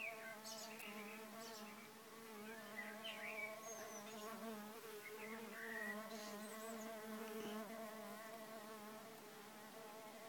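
Mason bees (Osmia rufa) buzz around a bamboo bee hotel, a steady, continuous droning hum with wingbeats rising and falling as bees come and go, soft and unbroken by speech.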